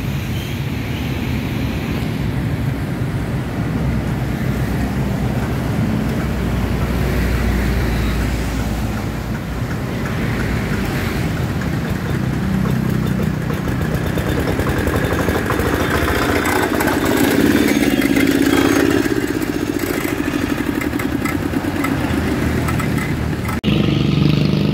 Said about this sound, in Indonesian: tes diesel Dongfeng 7 PK traktor capung metal.